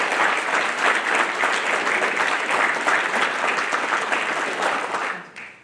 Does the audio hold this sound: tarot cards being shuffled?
no